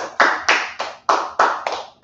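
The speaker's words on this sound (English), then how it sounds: "Clap it up." About seven sharp claps ring out close by in a roughly even rhythm at a Sabbath service in Indianapolis, loud and isolated, with no talking underneath.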